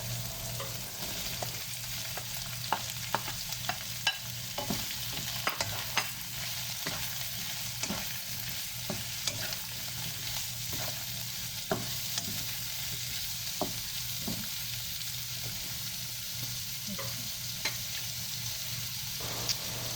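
Chopped chayote sautés in a hot pan, a continuous close sizzle broken by regular scraping and clicking strokes of a spatula stirring the vegetable.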